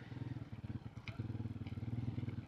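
A motorbike ridden along a road through a rural farming area, its engine a steady throbbing put-put close by with a few clattering bumps, no talk.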